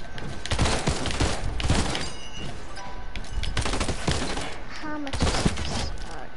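Muffled bursts of silenced SMG fire in a solo video game match, quick clusters of dull thumping shots with brief gaps, close and fairly loud over steady game background noise.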